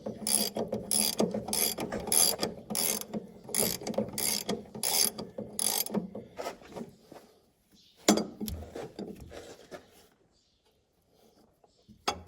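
Ratcheting gear wrench working a bolt on the hydrostat of a John Deere 7720 combine, quick repeated clicking strokes in a steady rhythm, then a clank and a few scattered ratchet clicks before it falls quiet.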